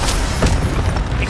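A spell strikes with a deep boom in Hogwarts Legacy, a single low thump over a dense, rumbling game soundscape, loud and close with no talk.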